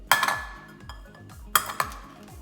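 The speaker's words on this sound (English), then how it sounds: "and then we're gonna beat those eggs" Eggs being beaten in a bowl for banana bread, with a utensil clinking sharply against the dish in a few quick bursts and a pause between strokes.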